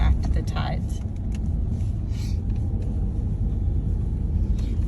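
A 4x4 vehicle drives along the beach in the Outer Banks, with a steady, heavy low rumble of engine and tyres, loud and continuous, as faint cabin noises come and go.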